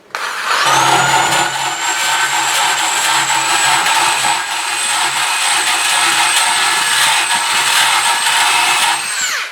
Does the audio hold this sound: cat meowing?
no